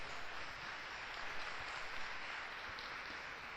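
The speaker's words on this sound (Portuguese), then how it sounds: "Diga glória a Jesus e aplauda o Senhor Jesus." A church congregation applauding together, a steady, dense wash of many hands clapping at an even level throughout, with no voices standing out.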